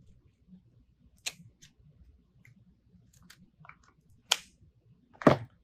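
Pipe cleaners wrapped through a grapevine Christmas wreath are trimmed with scissors: a few sharp, isolated snips and clicks over near silence, the last two loudest and closest.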